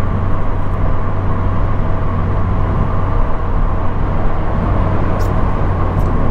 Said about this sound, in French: Pour te donner une idée un petit peu du niveau sonore, voilà, là je suis sur le périph' à 110.